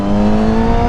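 A Yamaha R6 sport motorcycle engine drones loud and close at steady high revs, a smooth sustained tone with no talking over it.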